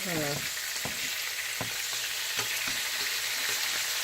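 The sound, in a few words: catfish fillets frying in a non-stick pan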